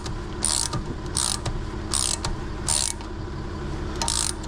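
A ratchet clicks while undoing the hub bolts on a Range Rover Sport L320, the pawl ticking in quick bursts of short strokes with brief pauses between, close and clear with no talking.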